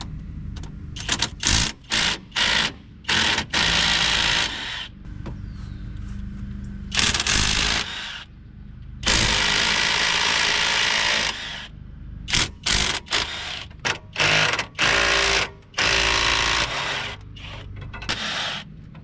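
A power tool, likely an impact wrench, removes the bolts from a 2000 Jeep Cherokee differential cover. It fires in loud repeated bursts of rattling and whirring, some short and some sustained, separated by brief pauses.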